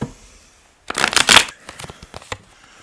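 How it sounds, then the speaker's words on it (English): A burst of tarot cards being shuffled, a quick riffle followed by a few lighter flicks and taps, close and fairly loud. "Let me just give this a quick shuffle."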